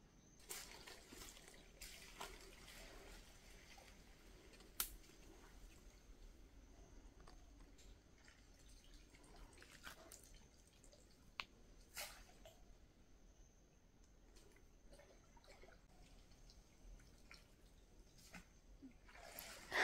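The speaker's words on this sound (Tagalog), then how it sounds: "Napasok na po ang tubig." Water flowing steadily into a fishing pond, a continuous rushing wash with scattered small splashes and clicks, heard alone without talk.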